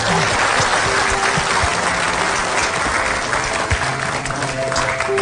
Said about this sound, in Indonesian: kasih tepuk tangan dulu coba.